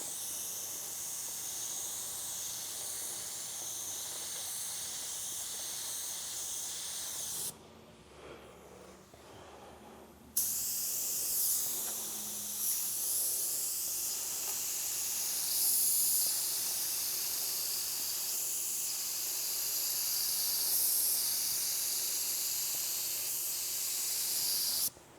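Spray gun hissing steadily as a coat goes onto a 1935 Packard car body, a broad continuous spray that pauses briefly before resuming close and loud.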